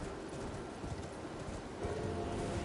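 Steady horse hooves clip-clopping at a walking pace in the video game Elden Ring, fairly quiet, with a soft broadband background and no voices.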